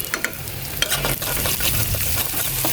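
Spice paste sizzles in hot oil in a wok, a continuous frying hiss broken by scraping stir strokes and small pops, close and moderately loud.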